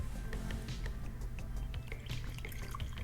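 Whiskey poured close-up into a glass gives a soft, faint trickle with scattered drips and splashes, recorded quietly with no talking.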